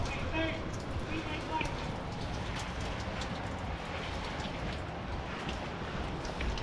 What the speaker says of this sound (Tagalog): Tapos umulan oh. Pangit ng panahon.